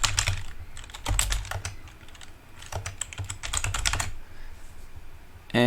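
Fingers type on a computer keyboard while entering project details into admin software: rapid clusters of clicking keystrokes in several bursts separated by short pauses, close and clear with no voices.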